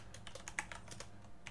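Rapid keystrokes on a computer keyboard while entering a command in a Debian Linux terminal, a quick irregular run of light, close clicks and taps with a steady low hum underneath.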